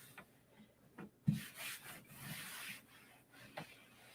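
Cloth or hand wiping across an altar surface during a midday cleaning, a soft close rubbing and scuffing with a few brief bumps, alone and fairly quiet.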